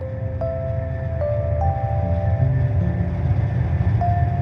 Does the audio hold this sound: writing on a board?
no